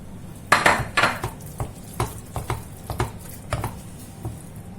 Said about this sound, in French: Je vais rajouter mon fromage râpé. Je mélange aussi.